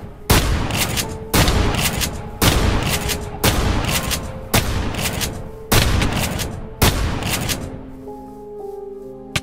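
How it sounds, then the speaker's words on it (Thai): Video game gunfire: six heavy, evenly spaced bursts of rapid shots, each loud and close, rolling into one another, then fading into a ringing tail with a single faint shot at the end. "ต้องจ่อยิงใส่หน้าเลย"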